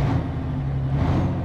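A MAN TGX truck engine with stock exhaust in Euro Truck Simulator 2 drones steadily at a low, even pitch, a short continuous rumble with no voices.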